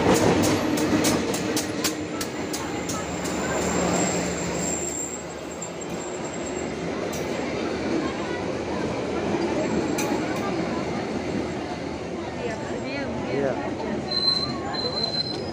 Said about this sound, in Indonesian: itu dia teman-teman, keretanya sudah kelihatan